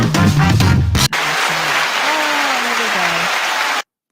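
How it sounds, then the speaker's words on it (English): A recorded applause sound-effect track plays loudly and steadily for a few seconds, a dense wash of clapping and crowd noise, briefly preceded by talk and then cutting off abruptly. "Oh, it was like the applause track."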